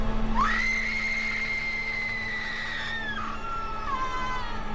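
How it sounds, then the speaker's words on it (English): A woman's long, piercing scream from the 2004 horror film Shutter, sustained for about three seconds before trailing off into a falling wail, loud over a steady low hum. "The scene of Nit screaming was what Jane saw when she encountered her in the dark room earlier"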